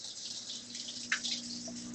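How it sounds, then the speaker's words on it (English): Kitchen tap water running while an ingredient is rinsed during pizza preparation, a soft, faint stream with a brief louder splash in the middle over a low background hum. "I'm going to rinse this off for a sec."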